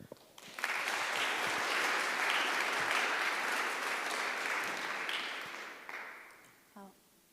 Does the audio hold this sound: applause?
yes